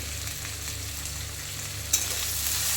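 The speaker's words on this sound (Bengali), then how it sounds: "পেঁয়াজটাকে ভালো করে ভেজে নেব।" Onions fry in hot oil for a taro and fish curry, giving a dense, continuous sizzle close up, with a brief stirring scrape near the end.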